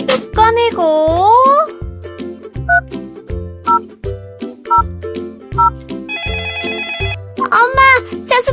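A toy telephone rings out in a child's play-house game, with repeated electronic ring bursts and beeping tones, loud and close, mixed with playful, childlike voices and sound effects.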